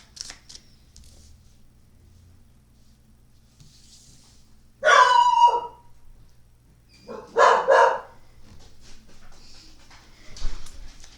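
An excited puppy lets out two loud bursts of barking and howling a few seconds apart, close by, with quiet room noise between them.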